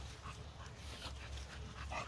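American Bully dogs at play, faint soft whimpers and small yips scattered over a low steady background hum, with no speech.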